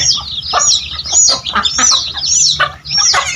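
Several chickens cluck and squawk close by, their busy, overlapping calls coming in quick bursts.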